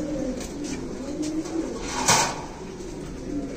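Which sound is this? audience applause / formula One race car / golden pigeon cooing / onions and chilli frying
golden pigeon cooing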